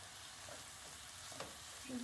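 Rice, soaked in hot water, tipped into a pan of softened spring onions for stuffed vine leaves, giving a low, steady frying sizzle with a few stirring scrapes and a small clatter near the end.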